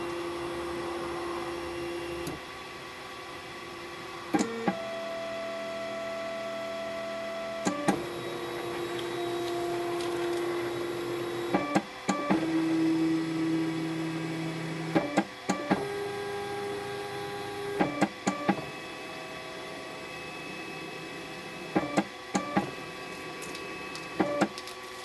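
3D printer running its build plate leveling script after a reset, a steady mechanical hum broken by stepper-motor whines and tones that change pitch, with clunks and knocks at intervals throughout.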